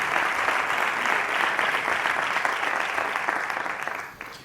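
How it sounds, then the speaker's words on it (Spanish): An audience at a history lecture on the Roman emperors Trajan and Hadrian claps in sustained, dense applause from many hands, loud and steady before tapering off near the end. "le pido un fuerte aplauso"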